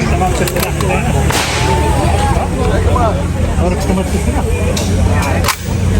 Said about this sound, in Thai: เขาสาธิตให้ยิงปืน